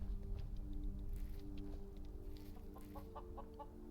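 Several chickens in Skyrim cluck in quick, scattered bursts, the calls growing busier toward the end over a constant low background drone.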